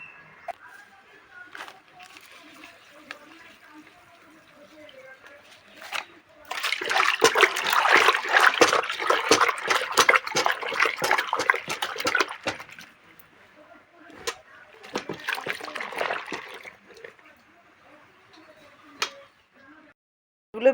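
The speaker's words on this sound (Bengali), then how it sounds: "এই যে আমি জামা কাপড়গুলো ভিজিয়ে কেচে নেব ভিজিয়ে নিই প্রথমে" Clothes soaked and washed by hand in water: bursts of splashing and sloshing swell and fade with soft drips and taps between, close by, while a voice talks at times.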